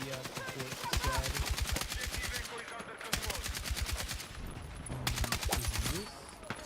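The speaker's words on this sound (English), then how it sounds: "Loud explosions in Riyadh, Saudi Arabia, reports said." Rapid, loud explosions and gunfire-like bursts in Riyadh, Saudi Arabia, crackle in dense repeated volleys over several seconds, with voices mixed underneath.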